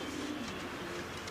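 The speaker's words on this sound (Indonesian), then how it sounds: "Burung-burung merpatiku semua terbang." Pigeons cooing softly in a brief, low burble, with faint fluttering noise underneath and no voices.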